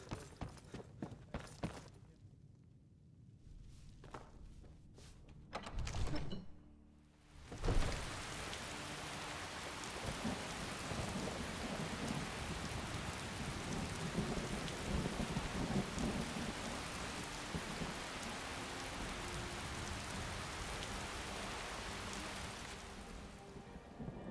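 Rain and thunder in the video game Skyrim, heard as steady broadband downpour that begins after a few seconds of quieter ambience, with a deep rumbling swell around the six-second mark, continuing unbroken and without voices.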